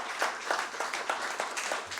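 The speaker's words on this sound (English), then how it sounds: "can you kindly give our panelists and our delegates a warm round of applause?" Scattered clapping from a small conference audience, a brisk patter of hand claps without cheering.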